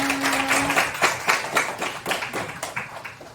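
A class of primary-school pupils claps together in a classroom, a run of quick, fairly close claps in a loose rhythm after a brief held tone at the start.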